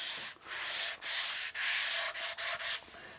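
Sandpaper works over a guitar body to prepare its finish, a bright, hissing rasp in even strokes broken by several short pauses, close and clear with no voices.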